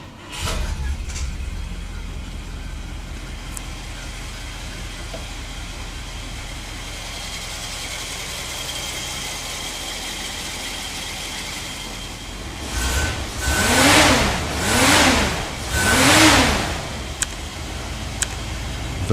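A 1957 Rambler Rebel V8 sedan engine idles steadily at first, then revs up in three rising and falling swells toward the end, fairly close and clear with no talking.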